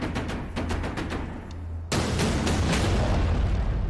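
Cannon fire in a battle against the Ming-era Great Wall: a dense, continuous rumbling roar of gunfire with a sudden, heavier booming surge partway through, loud and close.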